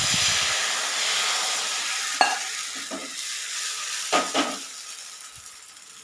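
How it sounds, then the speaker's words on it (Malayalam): Batter poured onto a hot oiled tawa sizzles with a broad hiss that slowly fades, marked by a few short clicks and soft bursts of spattering, close by and with no speech. "ഇനി മാവ് ഒഴിച്ചു കൊടുക്കാം."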